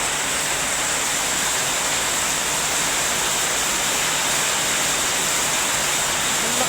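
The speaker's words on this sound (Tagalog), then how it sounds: "Ang lakas ng ulan." Heavy rain pours down in a steady, dense roar that stays loud and unbroken throughout, with a bright hiss from water striking surfaces all around and no voices heard.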